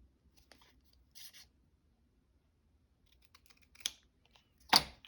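Scissors fussy cutting paper for a junk journal page, with a few sparse snips spread across a quiet background and the sharpest, loudest cut arriving near the end.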